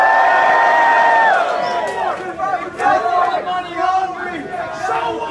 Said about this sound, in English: Make some noise for yourself.